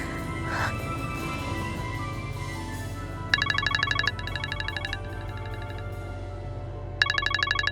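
A telephone ringtone trills in short repeated bursts, cutting in and pausing, set against a low background hum in an indoor drama scene.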